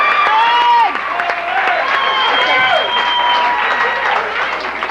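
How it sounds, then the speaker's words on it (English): Audience at a 1987 comedy competition final applauding a comedian, dense clapping mixed with cheers and whoops, with a voice speaking over it. "From the A&P in Dundas, let's have a big hand for Owen Anderson."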